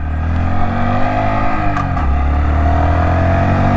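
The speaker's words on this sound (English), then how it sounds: "Sounds quite good, this engine." A 2023 Honda ST125 Dax minibike engine, ridden in first gear, drones steadily and loudly up close, with a slight rise and fall in pitch as it runs.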